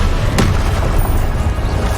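A fire spell cast in the Hogwarts Legacy video game, heard as a sharp burst near the start followed by a sustained low roar of flame and rumble that fills the whole short moment.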